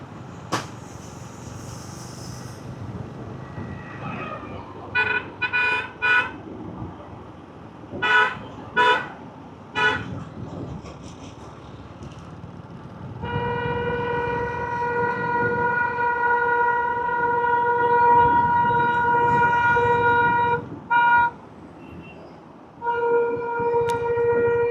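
Vehicle horns honk at a large road junction on a long motorcycle ride, with several short blasts followed by long, sustained loud honks over steady road and engine noise.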